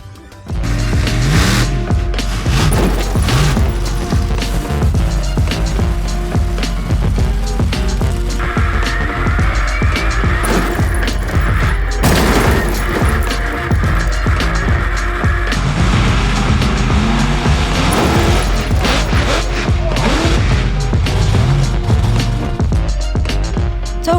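A homemade monster truck, built from lorry and digger parts with joystick rear steering, roars loudly and steadily while crushing cars, with heavy engine rumble and crunching, grinding impacts throughout.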